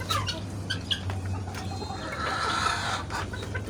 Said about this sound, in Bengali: এই যে বড় বড় এগুলো হইলো মুরগি, আর এগুলো হলো মুরগ